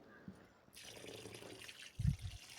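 Red rice being rinsed in water in a kitchen, with soft trickling and sloshing throughout and a louder splash of water near the end; no talking.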